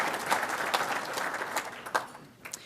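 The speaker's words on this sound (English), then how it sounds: "So give yourselves a round of applause, too, for being here and taking the time out of your schedule." An audience at a State of the County address gives a round of applause, a steady field of clapping with a few louder individual claps, moderate in level and tapering off toward the end.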